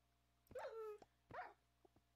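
A dog in a video game gives two short barks close up, the first longer and whining, followed by a couple of faint soft yips.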